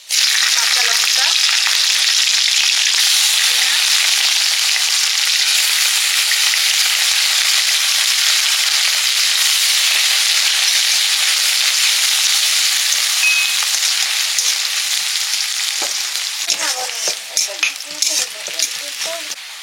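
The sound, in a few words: green chillies and spices frying in oil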